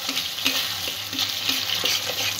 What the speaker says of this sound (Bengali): ভালো করে সমস্ত উপকরণগুলো কষে নেব।